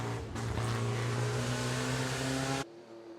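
A Porsche race car at the Pittsburgh Vintage Grand Prix road course drones loudly along a straightaway. The engine note holds steady and climbs slightly, then cuts off abruptly near the end.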